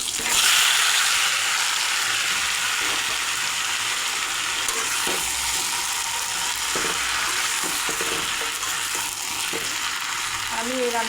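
Marinated chicken frying in oil with cinnamon, cardamom and bay leaf gives off a steady, close hiss, with occasional stirring taps against the pan.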